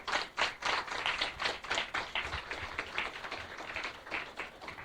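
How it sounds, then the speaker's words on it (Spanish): A congregation at a church devotional service applauds. Brisk rhythmic clapping from a small group sounds close and fairly steady across the whole stretch, with no talking. "Demos un aplauso a nuestro Dios"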